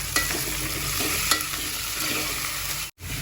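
Tomatoes and green peas frying in a pan for pulao, a loud close sizzle with constant stirring and scraping, alone without speech and cut off briefly near the end.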